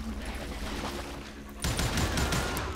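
Gunfire in Call of Juarez: Gunslinger erupts partway through, a rapid burst of shots following a quieter stretch of ambience with a faint steady tone.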